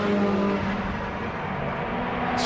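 MG Cup race cars stream past at Silverstone, their engines a steady, loud, continuous roar with a droning tone through the full stretch, no voices over it.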